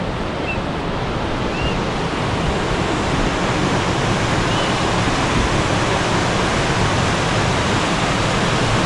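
Water rushes down a fish ladder on a creek in Ketchikan, Alaska, as a dense, steady roar that fills the whole span with no pauses.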